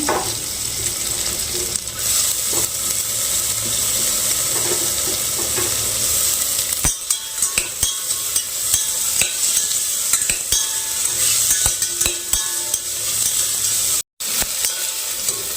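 Chopped vegetables for a vegetable khichdi fry and sizzle in a pan while being stirred steadily, a continuous close crackle with scraping spoon strokes throughout and a brief dropout near the end.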